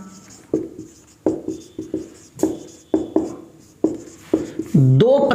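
Chalk or marker writing on a classroom board, a series of short tapping strokes and scratchy scrapes in an irregular rhythm, close and clear, with a brief tonal squeak near the end.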